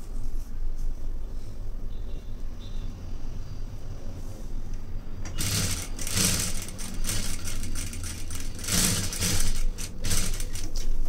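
A sewing machine stitching a plain blouse at the shoulder seam, starting after a quiet stretch with loud bursts of rapid rattling stitches, stopping and starting several times, close by.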